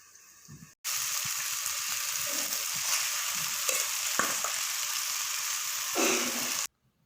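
Washed chicken drops into a pan of softened onion and tomato with a sudden loud sizzle that hisses steadily for about six seconds, with stirring clatter, then cuts off abruptly.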